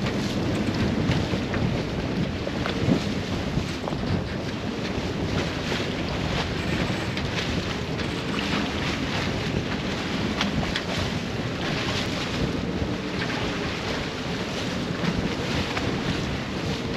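Sailboat crossing from Guadeloupe toward les Saintes, heading into the waves with the engines off: a steady, loud roar of wind buffeting the microphone over rushing water and hull slap, continuous throughout with no voices.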